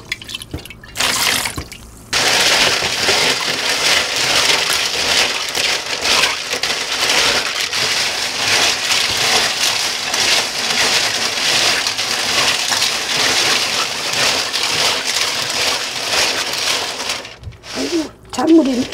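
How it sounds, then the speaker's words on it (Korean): Cockles are washed by hand in rice water, a long continuous sloshing, rattling and dripping of shells and water, fairly loud and close, with brief pauses and handling noise near the start and end. "그래서 이거를 씻을 때는 쌀뜨물을 가지고 씻어야 돼."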